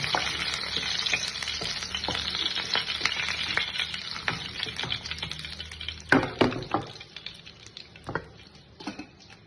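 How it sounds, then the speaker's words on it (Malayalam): Onions sizzle steadily in hot oil left from frying, with a utensil scraping and clicking against the pan as they are stirred, close by and without talk. "ഇനി ഇത് നമുക്ക് ഈ എണ്ണയിലേക്ക് തന്നെ സബോളയൊക്കെ വഴറ്റിയെടുക്കണം"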